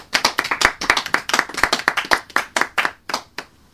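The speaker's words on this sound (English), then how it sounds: "All right, guys, just give me a nice light applause." Light, sparse clapping from a small seminar audience in a room, distinct individual claps in an uneven rhythm that thins out toward the end.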